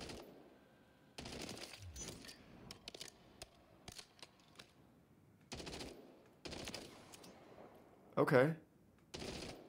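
Several short bursts of automatic gunfire from Call of Duty MW3 crackle at irregular intervals, one louder burst near the end, while someone talks over the gameplay.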